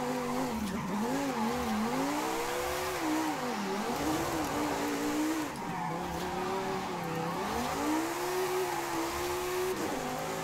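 Naturally aspirated Lamborghini Huracán Tecnica engine in the Forza Horizon 5 video game, loud continuous revving that rises and falls through gear changes, with tire squeal, no talk.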